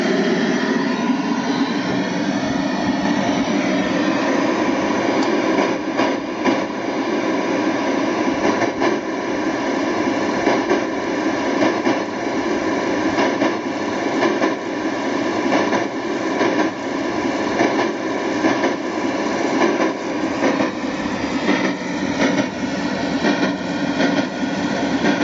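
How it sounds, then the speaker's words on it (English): With its chuff sound turned up louder, a Prince 10.25-inch miniature locomotive gives a continuous loud mechanical roar with rhythmic pulses that quicken and slow with speed, close by and without talk. "The chuff speed goes up and down as you speed up and down."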